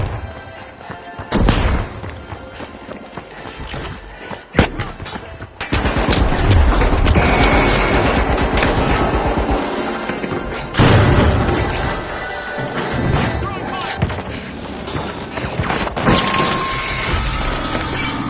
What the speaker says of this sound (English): Grenade set! Tossing a frag!